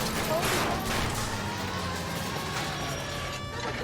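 Gunfire in the video game L.A. Noire, a burst of shots at the start trailing into a rumbling vehicle chase backdrop with mechanical clatter, while a voice talks over it.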